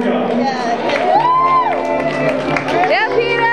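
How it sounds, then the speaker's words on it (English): A crowd at a Seaside Heights event cheers, whoops and shouts loudly and steadily throughout, with an amplified voice and a music-like tone carrying above the noise. "Big round of applause for Peter Smith and Anthony Maruca."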